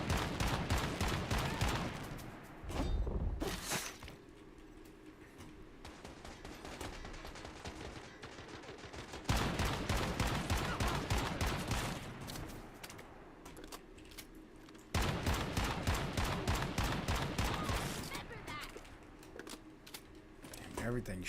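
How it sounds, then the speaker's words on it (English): Gunfire in the Once Human game comes at the player in rapid, rattling bursts that surge loud in several stretches and ease between them, with a busy clatter of close clicks mixed in. "Everything's shooting at me right now"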